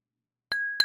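Two bright glass clinks during a toast, the second louder, each with a long ringing tone that lingers between and after them, close by with no talk.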